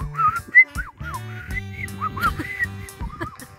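A person whistles a series of short, warbling and rising notes to imitate and call a bird on a walk through the Desierto del Carmen forest near Tenancingo, with low honking goose-like sounds underneath.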